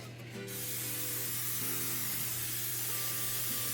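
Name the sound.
cooking spray sprayed onto muffin pan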